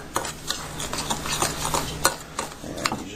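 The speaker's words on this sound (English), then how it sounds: "Throw the Epsom salt in there. Mix that up real good." Dry powdered dishwasher detergent ingredients and Epsom salt are stirred together in a bowl, a soft gritty scraping in uneven repeated strokes, quiet and close with no talk.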